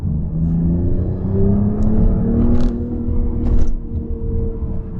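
A 2024 Jaguar F-Pace P400 downshifting and accelerating, a loud close engine drone whose pitch rises steadily as it pulls away, with a deep rumble underneath and brief higher whooshes.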